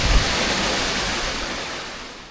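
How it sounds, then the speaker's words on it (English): Pistyll Rhaeadr waterfall in Wales roars in a steady, broad wash of falling water, loud and continuous, with no voices over it. "can we just appreciate the waterfall itself?"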